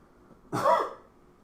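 A single short, husky cough from a person with a cold breaks an otherwise quiet moment.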